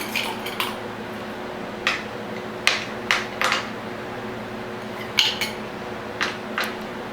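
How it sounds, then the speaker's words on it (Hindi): Ice cubes dropped into a glass of milk, several sharp separate clinks and clatters spread across the clip, close and moderately loud over a faint steady hum. "थोड़े से इसमें डालेंगे आइस क्यूब्स, जितना ठंडा आपको पसंद हो"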